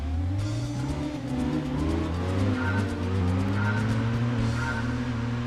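A racing-style Mini's engine drones and revs in Gran Turismo 2, rising and falling in pitch as it holds speed, with other cars' engines layered in and brief tire squeal.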